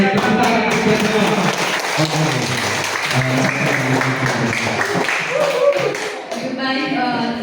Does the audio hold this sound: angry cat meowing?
no